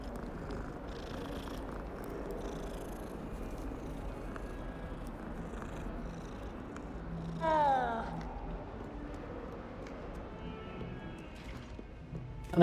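A cat in the video game Hogwarts Legacy purrs softly and steadily, with a brief meow rising near the middle over quiet game ambience.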